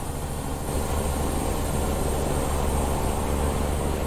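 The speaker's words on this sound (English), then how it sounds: "Oh, and a jet going by." A jet passes overhead at night in American Truck Simulator, a broad distant roar that swells slightly and blends with the steady low rumble of a loud idling semi truck.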